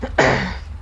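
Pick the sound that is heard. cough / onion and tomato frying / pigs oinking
cough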